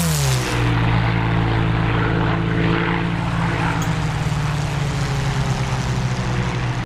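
Modern US carrier-group military aircraft launching from carriers in a naval combat game, a loud steady engine roar with a rising whine that holds throughout, no voices over it.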